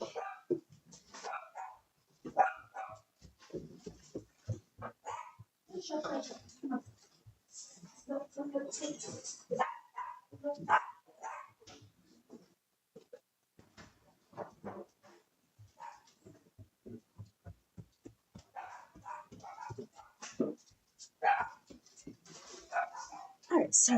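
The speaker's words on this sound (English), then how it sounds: "We gotta take care of dogs." Dogs bark repeatedly at home, in sharp, uneven bursts with some whimpering, mixed in with steady conversation throughout.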